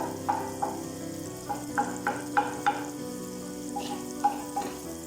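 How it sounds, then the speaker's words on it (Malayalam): Butter sizzling and frying in a pan for paneer butter masala, with a steady crackle and several scraping stirs of a spoon at irregular intervals, close up. "ബട്ടർ ഇവിടെ നല്ല ഉരുകി വരുന്നുണ്ട്"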